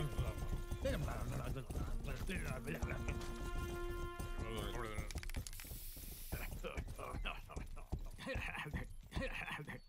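Horse hooves canter in the video game Grand Theft Horse, a quick repeating clip-clop under excited talking and laughter, with clanking game sounds.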